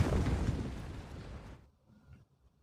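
A landmine explosion in a war film: a loud, broad blast that roars for about a second and a half, then cuts off into quiet low rumbling debris.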